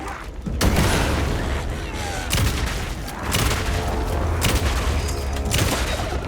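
A flashbang detonates in Alan Wake 2 amid loud, rapid bursts of gunfire and booming blasts, with sharp impacts repeating across a dense, noisy battle soundscape.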